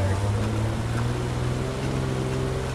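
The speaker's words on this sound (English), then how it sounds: "Tractor drive by." Tractor engine in the World War II game Post Scriptum, a steady low droning hum with a faint tonal whine, close and continuous, under faint background voices.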